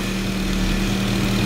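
Car engine running steadily with the clutch pressed down, a continuous loud droning hum with a low, even tone and no talking.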